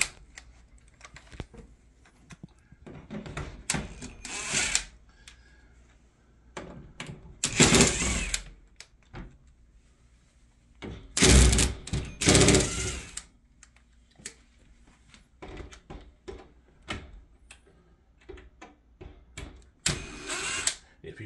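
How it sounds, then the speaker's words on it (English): Short screws being backed out of the balances on a Peachtree Ariel double-hung non-tilt window, heard as intermittent bursts of gritty, whirring driver noise separated by quieter handling sounds, close up with no talking. "Take these short screws out."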